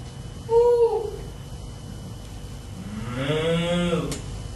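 A voice imitates a cow mooing in a boxcar setting, giving a short low moo followed by a longer drawn-out moo, close and loud with no other sounds.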